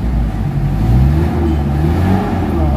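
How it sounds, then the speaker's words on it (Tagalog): A Mitsubishi Adventure engine revs loudly up close after a low-power fix, the deep rumble swelling and holding with a rough, throaty growl, no voices. "maririnig mo na yung galit ng makina"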